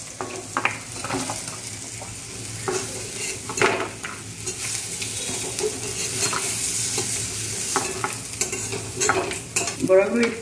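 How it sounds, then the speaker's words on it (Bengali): Lentil fritters (bora) sizzle steadily in hot oil in a kadai, with a continuous close frying hiss broken by occasional scraping and clinking as the spatula stirs and lifts them. "সব বড়া ভাজা হয়ে এসছে, এইরকমই আপনারা লাল লাল করে ভাজবেন"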